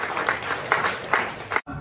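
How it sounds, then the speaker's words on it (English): An audience at a showcase event claps in applause. The sound is moderately loud, with rhythmic pulses that cut off abruptly near the end. "please, a round of applause for all of them."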